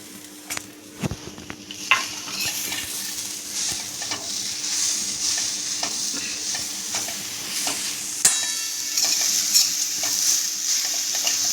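Grated jaggery melts in a pan over low heat for modak filling, giving a continuous soft sizzle. A spoon stirs and scrapes against the pan throughout, close and steady.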